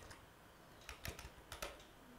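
Quiet computer keyboard typing, a few soft scattered keystrokes in short bursts against faint background hiss.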